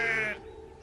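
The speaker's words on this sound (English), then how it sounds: "The noisy sheep were spoiling his peace and quiet." A sheep on railway tracks in a Trainz animation gives one short, loud bleat that quickly fades into quiet background.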